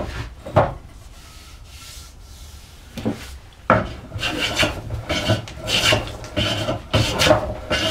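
A hand plane working a bevel on a wooden pentagonal stile makes close, rasping strokes. A few are isolated at first, then they come in a steady, repeated run of shaving passes.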